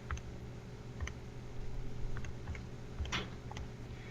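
Sparse plastic button presses tap out a calculation on a calculator, light close clicks in an uneven rhythm over faint room hum.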